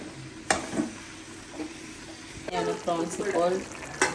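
Prawns fry and get stirred in a hot pan. The sizzle runs steady under scattered scraping knocks, with a brief voice near the start.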